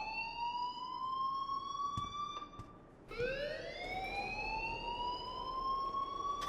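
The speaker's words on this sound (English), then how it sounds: "please turn off that alarm since that's your job" A school alarm in the video game Life Is Strange wails as a loud, continuous siren-like tone, sliding upward after a brief dip midway, with no talk over it.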